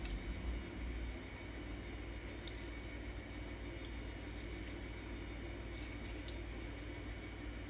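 A kitchen tap runs steadily, filling a pot with a little water for boiling ground beef and vegetables, producing a constant faint hiss and splash with no talking.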